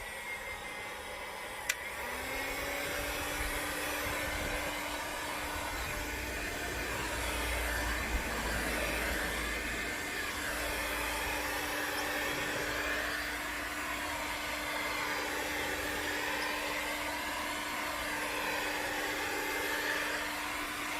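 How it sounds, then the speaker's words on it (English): A handheld hot air gun warms the surface of a Fiat 500. After a click it runs as a steady, unbroken fan roar with a constant whine, close and even for about twenty seconds, with no speech. "I'm going to use a hot air gun just to warm the surface up"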